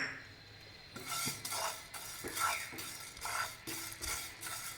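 Coriander seeds are dry-roasted in a pan on a gas stove, a series of scraping, rattling stirs and light metallic clinks in an irregular rhythm, close and quiet, with no talking.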